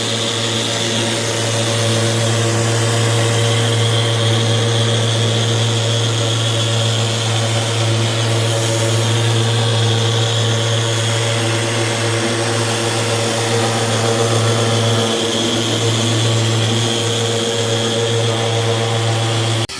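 Steady droning of a power sander on an 18-foot extension table runs continuously and fairly loud, with no talking.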